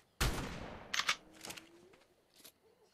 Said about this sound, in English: Basically, a shotgun versus bugs. Shotgun wins.